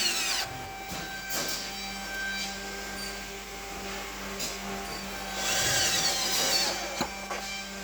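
A power screwdriver drives screws into the metal doors of a multipurpose steel cabinet during assembly, giving several short whirring bursts with pauses between them at close range and no talk.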